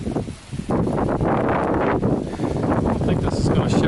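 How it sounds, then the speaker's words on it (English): Strong wind buffets the microphone during a sleet storm in the first winter weather, a loud rough roar with gusty surges and rustling, continuous throughout. "It's very windy."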